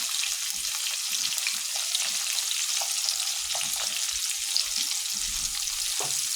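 Ground cumin fries with chicken in a hot pan, giving a soft, even sizzle with scattered low bumps and scrapes as the food is stirred and moved around.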